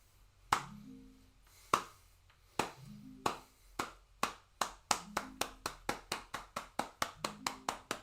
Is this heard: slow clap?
yes